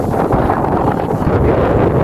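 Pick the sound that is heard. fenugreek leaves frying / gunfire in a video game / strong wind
strong wind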